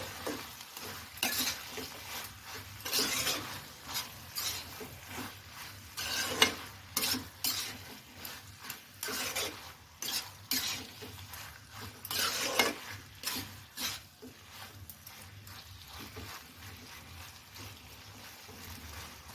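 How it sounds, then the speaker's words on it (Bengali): Potatoes, fried sweet pumpkin and dried fish are stirred in a pan with a utensil, giving repeated scraping clatter over a steady sizzle of frying, close and continuous. "আলু আর শুটকি এই তিনোটাই দিয়ে দেবো দিয়ে ভালো করে নেড়ে"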